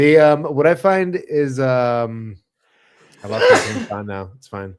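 One sharp, loud sneeze bursts out from a person during podcast chatter, preceded by someone talking and followed by a brief word or two.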